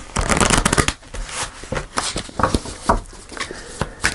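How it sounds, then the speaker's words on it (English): Tarot cards being shuffled in quick riffling bursts, close and crisp, pausing briefly then resuming in shorter rustling runs. "I'm just going to shuffle."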